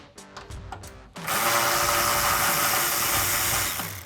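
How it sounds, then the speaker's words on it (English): A power ratchet or drill with a 10mm socket buzzes steadily for a few seconds, removing headlight bolts on a Ford Mustang, preceded by a few short clicks and taps, close and fairly loud, with no talking. "I'm just going to use my 10mm socket again to remove the 3 bolts that hold the headlight into place"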